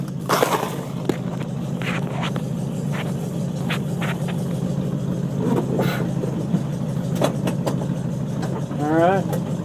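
The engine of a 1975 International Harvester pickup runs and rumbles steadily at close range, with scattered knocks and clatter as the truck is moved.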